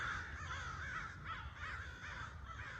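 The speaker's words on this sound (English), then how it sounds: "Big murder of crows." Several crows caw repeatedly from a distance, their rough calls overlapping in an uneven rhythm over faint low rumble.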